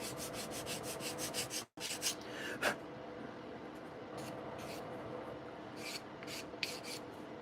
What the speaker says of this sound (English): Now I'm using the 400 grit to take this edge down just a little bit more here.